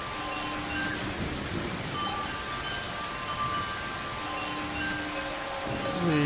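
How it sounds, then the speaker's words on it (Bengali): Steady rain falls through a TV drama scene, a dense continuous hiss with faint rumbling beneath and occasional tonal background sounds, no talking. "এই বৃষ্টি নিশ্চয়ই ইউসুফের ওসিলাই হচ্ছে।"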